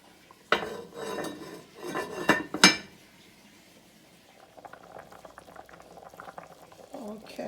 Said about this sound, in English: I just wanted to let you see how that bubbling should look.